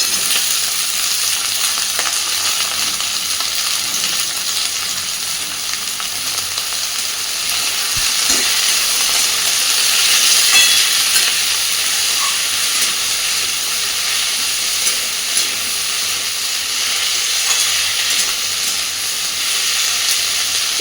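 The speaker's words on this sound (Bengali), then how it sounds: "জাস্ট একটু নাড়াচাড়া করে দিয়ে দিচ্ছি কেটে রাখা আলু, ফুলকপি আর 2টো কাঁচা লঙ্কা" Potatoes, cauliflower and green chillies sizzle in a pan with onion and garlic, a continuous frying hiss broken by a few scrapes and clinks of stirring, close and steady with no talk.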